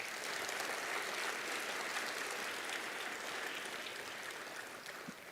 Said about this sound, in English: join me in welcoming them with a huge round of applause